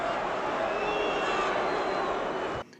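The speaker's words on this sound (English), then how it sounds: "You can hear the crowd booing the foul tactics." A boxing crowd boos during a fight, a dense, sustained roar of many voices held at a steady, loud level before cutting off abruptly near the end.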